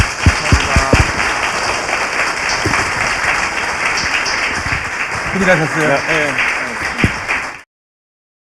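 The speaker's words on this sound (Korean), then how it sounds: "박수 부탁드립니다." Audience applause in a studio broadcast, a sustained wash of clapping for about seven seconds while people talk and laugh over it, then cutting off abruptly.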